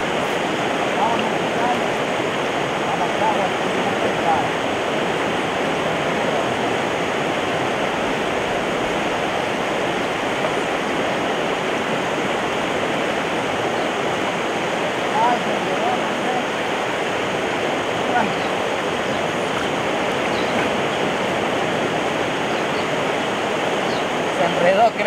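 Rushing water of the Guayllabamba River, a loud, constant broadband roar heard close and steady throughout with no break.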